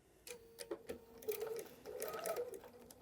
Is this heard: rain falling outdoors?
no